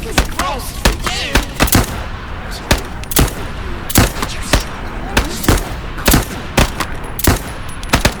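Rapid bursts of loud gunfire ring out in the video game Into the Radius 2, sharp cracks spaced irregularly across the whole stretch, close and dominant with no talk.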